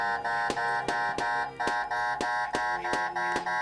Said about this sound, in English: That's a very noisy, horrible alarm.